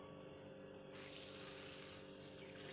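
Tap water runs steadily over basmati rice as it is rinsed for jeera rice, a continuous close hiss and splash that grows a little fuller partway through.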